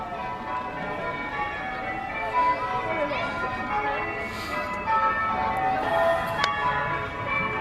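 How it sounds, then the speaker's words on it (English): Church bells ring at a miniature church in Bekonscot Model Village, a faint, steady peal repeating over outdoor ambience and background chatter. "bells going in the church."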